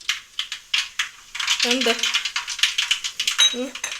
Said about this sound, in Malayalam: നമുക്ക് എണ്ണ ചൂടായി വന്നിട്ടുണ്ട്. കടുകിട്ട് കൊടുക്കാം.